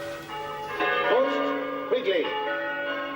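Church bells ring out close and loud, with rich sustained tones and a few clear strikes. A voice talks over the peal.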